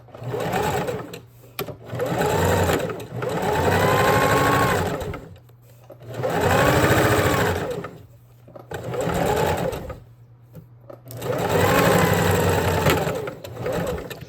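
Sewing machine running in several bursts of a few seconds each, stitching a seam along a fabric panel for a dress, with a fast steady mechanical whir and short pauses between runs.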